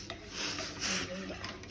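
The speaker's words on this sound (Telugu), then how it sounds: "ఇప్పుడు 1 స్పూన్తో మనం ఏం చేద్దామంటే కలపాలి" A spoon scrapes and swirls through a pot of herbal kashayam decoction, giving a few uneven, close stirring strokes with light metallic clinks and no voices.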